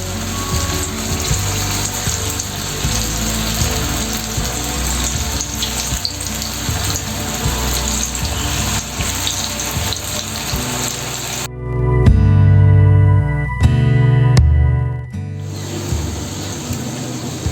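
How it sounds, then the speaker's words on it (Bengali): Raw banana koftas fry in hot oil with a steady, dense sizzle throughout, which shifts to a heavier, lower bubbling for a few seconds near the end; no one speaks. "এবার আস্তে আস্তে করে কোপ্তাগুলো ছেড়ে দেব আর ব্রাউন করে"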